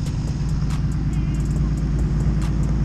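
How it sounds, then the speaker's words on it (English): Four-wheel drive cars on rubber tires race across slick ice, a steady, loud engine rumble and road drone running throughout without a break. "they are currently racing the four-wheel drive rubber class"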